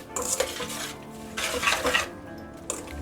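A spoon scrapes and clinks around a metal pot of cherries cooking with sugar in short bursts of stirring, with faint bubbling between strokes.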